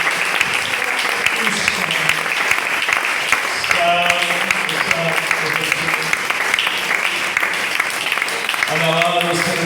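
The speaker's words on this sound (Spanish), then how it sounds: "Yo no sé si usted quiere aplaudir más al Señor esta mañana" A church congregation applauds the Lord during a Spanish-language service, a steady sustained wash of clapping throughout, with a preacher's voice cutting in briefly over it.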